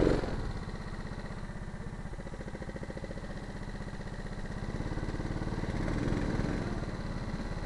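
A go-kart engine during karting qualifying, a buzzing small-engine drone heard onboard that holds steady and then climbs slightly in pitch and loudness as it accelerates, with no talking.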